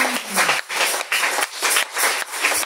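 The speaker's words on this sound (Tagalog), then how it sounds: "Palakpakan ang mabuting balita na ating napakinggan." A church congregation claps together after a sermon, loud and close, in rhythmic bursts with brief pauses between them; faint voices are mixed in.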